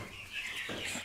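Backyard homestead chickens give a short, soft cluck, faint and brief at close range.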